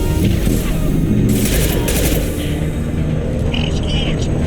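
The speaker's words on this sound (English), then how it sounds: "Support fire! Throwing an impact shot." Impact shot gunfire in the Mass Effect 2 video game, heavy booming shots and crashing blasts within a dense battle din, with a voice speaking over the continuous loud combat noise.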